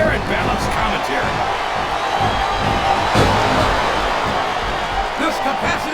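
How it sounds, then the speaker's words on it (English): A capacity arena crowd roars and cheers steadily throughout a SmackDown vs Raw 2007 wrestling match, a dense continuous wash of noise with a brief louder swell midway, while commentators talk over it. "This capacity crowd is making their opinions known tonight."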